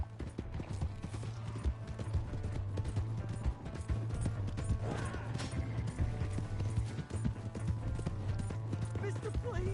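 Horse hooves gallop at a fast, steady rhythm in the video game Red Dead Redemption 2, with dense, close hoofbeats running the whole way and voices underneath.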